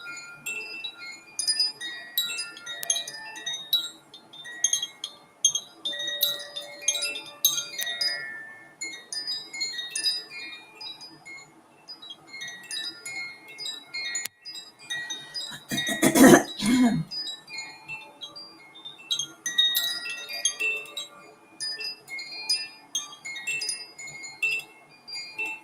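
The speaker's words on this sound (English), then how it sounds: "Listening to the beautiful Koshi chimes." Koshi wind chimes ringing in a clear, shimmering cascade of overlapping metallic tones, with soft intermittent strikes throughout and a brief louder knock near the middle, heard alone and close.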